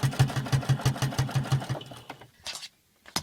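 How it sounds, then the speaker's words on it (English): A sewing machine stitches along the edge of a pillowcase in a quick, even run of mechanical pulses, then stops and gives a couple of short bursts, close and clear. "just sewing along the edge to make it secure"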